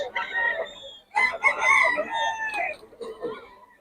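Roosters from Pangasinan crow in two or three overlapping calls, loud and close, with a brief gap between bursts and some clucking at the end.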